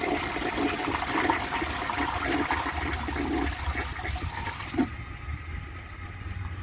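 A 1952 Briggs Prince toilet flushes with a washcloth and grocery bag in the bowl, a loud rushing gush of water that runs steadily, then cuts off abruptly to a quieter trickle of refilling.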